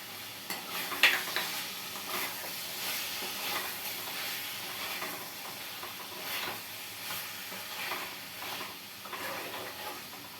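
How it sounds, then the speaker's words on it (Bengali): Spice paste of ground spices, fennel, cumin, green chilli and dried chilli powder added to hot oil, frying with a steady close sizzle and occasional stirring scrapes throughout. "এই যে দেখো এই বাটাটা এখন দিয়ে দেবো"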